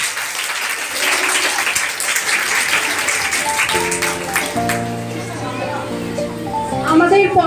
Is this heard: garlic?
no